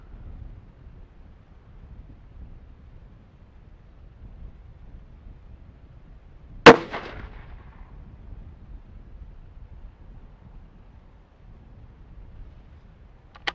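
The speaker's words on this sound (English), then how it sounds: "Give it a 5-shot group." A single sharp rifle shot cracks out mid-way at the range, loud and brief with a short decay, against a long stretch of faint outdoor wind noise.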